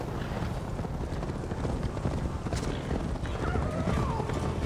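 Galloping hooves of a horse in Assassin's Creed Valhalla drum steadily and fairly loud under a dense layer of game ambience, with a brief faint whinny and some talking.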